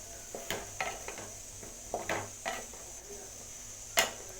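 Cut brinjal and potato being stirred and sautéed in a pan make a string of soft scrapes and light clinks at an uneven pace over quiet background hiss.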